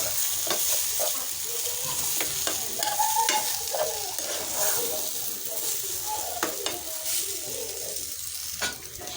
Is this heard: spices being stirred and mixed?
yes